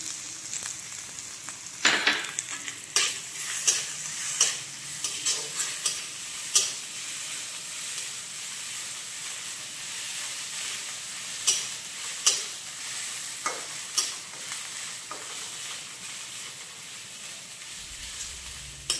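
Crushed ginger and garlic frying with lightly browned onions in a home kitchen pan, a soft steady sizzle broken by repeated sharp scraping and stirring knocks from a spatula, close and fairly quiet.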